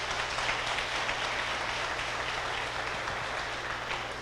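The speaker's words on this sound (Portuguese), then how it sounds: "renda para Jesus uma salva de palmas" Church congregation applauding Jesus during a sermon, a steady wash of clapping from a crowd, even and sustained throughout without voices over it.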